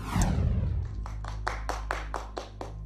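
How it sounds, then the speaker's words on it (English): A polite studio audience on the Eggheads quiz show claps, with about eight distinct, evenly spaced claps over a low steady hum after a brief burst of noise at the start. "It's a very polite Doctor Who applause coming your way."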